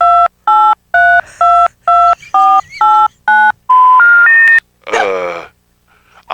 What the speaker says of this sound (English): I'll dial 9 first this time.